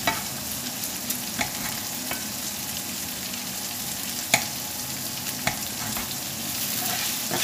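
Bell peppers sautéing in a pan for paella, a continuous soft sizzle with occasional clicks and scrapes of stirring, close and fairly quiet, with no talking.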